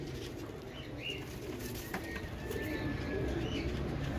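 Royal Teddy pigeon pairs cooing and briefly flapping their wings close up in a loft, with a few chirps over a low background rumble.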